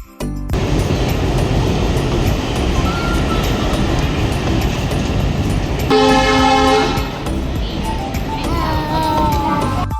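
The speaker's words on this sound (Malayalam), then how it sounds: "ട്രെയിൻ വരാറായിട്ടുണ്ട്" A loud, steady train rumble rolls along as it approaches, with a brief horn blast partway through.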